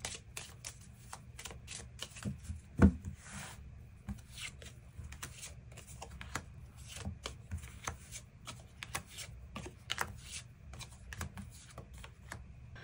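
Tarot cards being shuffled and drawn on a table, a continuous run of soft, quick riffling and slapping card sounds, close and fairly quiet, with one sharper tap along the way.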